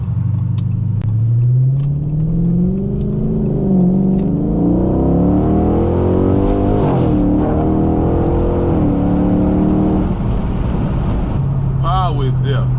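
Dodge Charger 392 Scat Pack V8 engine heard from inside the car as it accelerates, a loud, deep rumble that climbs steadily in pitch through the gears and drops back to a steady drone, with voices talking over it.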